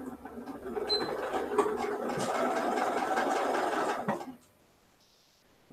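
A sewing machine runs steadily stitching an eighth-inch seam on a checkerboard quilt block, a close, continuous motor whir for about four seconds before stopping abruptly into near silence.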